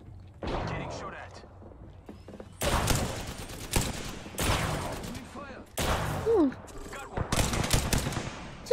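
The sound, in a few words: gunfire in the video game Apex Legends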